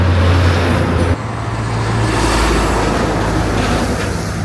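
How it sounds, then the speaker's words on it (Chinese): Large trucks pass close by on a narrow mountain county road, a loud, heavy engine roar and tyre rumble with a low drone, shifting as one vehicle goes by and traffic continues. "每个大货车经过，我就有点害怕"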